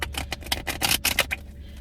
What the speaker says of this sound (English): Let me just shuffle cards.